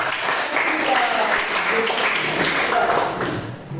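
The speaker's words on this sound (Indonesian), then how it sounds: "Tepuk tangan buat" Pupils in a classroom clap for a classmate during an English lesson, a short burst of close, busy applause that fades toward the end, with a voice briefly rising over it.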